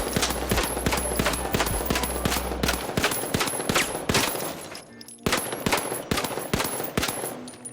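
MP5 submachine gun fire in the video game THE FINALS: rapid automatic bursts of sharp, punchy shots in quick rhythmic strings, with a short pause midway before another burst begins.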